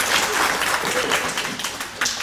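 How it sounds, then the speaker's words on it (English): An audience applauding at a gathering: dense, steady clapping that fills the whole moment, fairly loud and close, with a small swell near the end. "Give her a round of applause."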